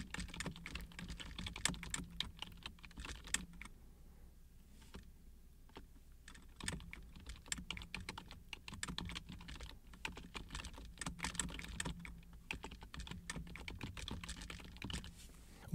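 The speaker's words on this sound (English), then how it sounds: "Let's type a note." A note is typed on a computer keyboard: soft, close key clicks in irregular bursts with brief pauses, continuing throughout against quiet room tone.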